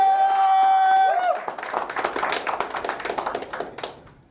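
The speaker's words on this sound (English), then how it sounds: "Give him a cheer." A small group claps for a participant after a sustained tonal beep fades, producing a brisk patter of hand claps that trails off over a few seconds.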